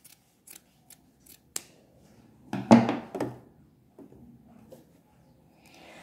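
Scissors trim leftover fabric from a dish towel: a few quiet snips, then a sharper, louder double cut, with light handling noises after.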